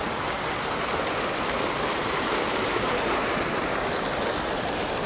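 Continuous rushing, splashing water from a fountain in Istanbul's Sultanahmet district, a steady broadband wash with no pauses or voices.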